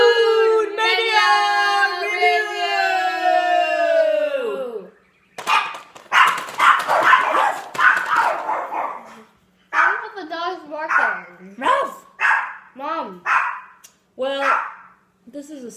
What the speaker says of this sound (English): Not just because the dogs are barking